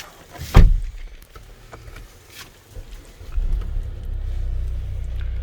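A well-kept used car with high-tech options, entered with a sharp door thump near the start, then quiet cabin rustling and a low rumble building toward the end.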